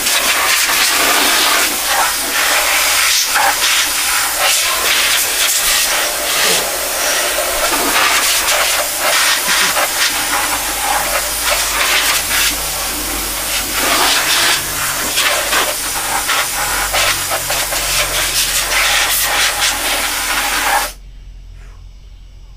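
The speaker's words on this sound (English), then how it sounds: "Using up the entire charge off that compressor." An air compressor's nozzle blasts drywall dust out of a filthy computer. A loud, continuous rushing hiss fills nearly the whole stretch, wavering slightly as the airflow shifts, then cuts off abruptly near the end, leaving a low hum.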